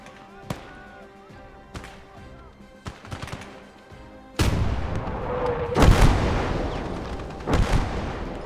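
Howitzer artillery fire in the WWII strategy game Gates of Hell, playing as Germany: sparse thuds early, then a sudden loud sustained roar with heavy booming blasts near the end over dense battle noise.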